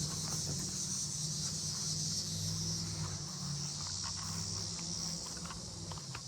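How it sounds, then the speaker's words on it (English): Cicadas on a farm in late summer drone in a steady, unbroken high buzz that holds at an even level throughout, with a faint low hum running underneath. "Cicadas."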